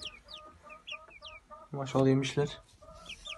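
Young chickens cluck and peep softly nearby in short repeated calls, with a person speaking briefly in Turkish in the middle.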